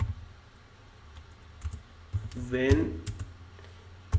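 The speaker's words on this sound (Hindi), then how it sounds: "तो यहाँ पे मैं टाइप कर लिया when UPI payment is available" Sparse, crisp clicks and taps from a computer keyboard are heard nearby, with a person speaking over the typing.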